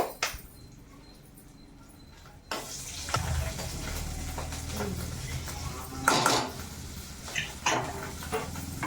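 A pressure cooker lid comes off, then a spoon clatters and stirs hot tempering into bottle gourd dal in a metal pot, with scraping, sizzling and clinking of utensils up close.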